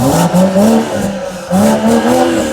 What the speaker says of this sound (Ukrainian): До речі, вихлоп.